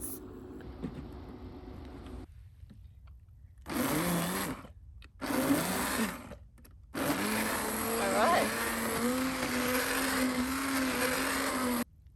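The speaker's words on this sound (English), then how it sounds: "So I'm gonna try and plug that into the Bluetti and see" Stick blender whirring through chestnut soup while running off a Bluetti portable power station at a winter campsite, with bursts of steady motor whine that stop and restart, one long run at the end, and some talk in between.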